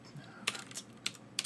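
Quick keystrokes on a computer keyboard as a command is entered: a short burst of several crisp, close clicks in an uneven rhythm.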